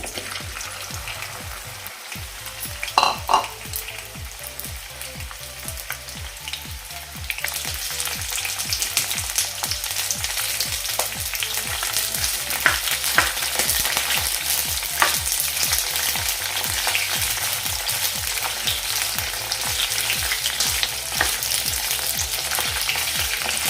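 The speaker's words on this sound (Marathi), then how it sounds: "त्यामध्ये आता ही भेंडी मी फ्राय करून घेते" Okra fries in hot oil, giving a continuous loud sizzle with bursts of spattering, slightly quieter at first before the frying swells and holds steady; a few brief knocks sit underneath and nobody speaks.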